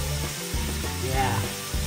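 Ground beef for black bean chili browning in a hot pan, a loud continuous sizzle with a few stirring scrapes.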